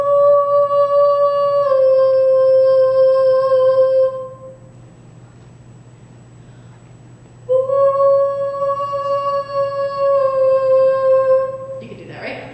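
A person's voice imitates a two-tone alpha wolf howl, holding a steady tone, pausing, then a second long sustained howl, loud and close in an indoor hall, with a brief breathy sound at the end.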